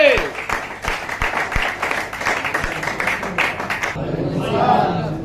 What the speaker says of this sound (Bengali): সর্বোচ্চ করতালি হবে পারবেন ম্যামের জন্য